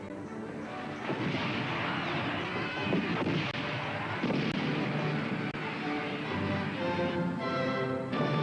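Fireworks rockets exploding in the sky crackle and boom in a dense, continuous barrage, loud and layered with rumbling blasts and crackling bursts throughout.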